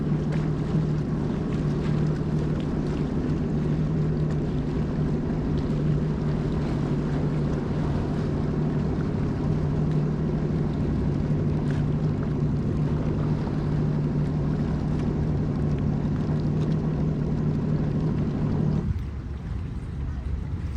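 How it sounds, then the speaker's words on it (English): Antique Century wooden boat motoring on a New Hampshire lake, its steady low engine drone running for about nineteen seconds amid wind noise and water wash before cutting off abruptly. "Here's another one of those antique century boats."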